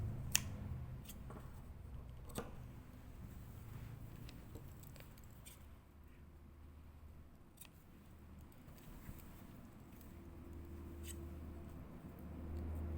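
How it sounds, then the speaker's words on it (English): Scissors snip loose thread ends from sewn summer shorts after stitching and overlocking, a few sharp clicks spaced across a steady low room hum, close and fairly quiet. "So go around and trim any loose ends."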